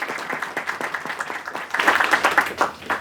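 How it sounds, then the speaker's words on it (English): Audience applause at a hospital topping ceremony, steady clapping from a crowd that swells louder midway through and holds for a few seconds. "I do want to give them another round of applause for their contribution"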